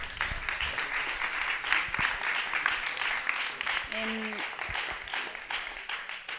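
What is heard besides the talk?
audience applause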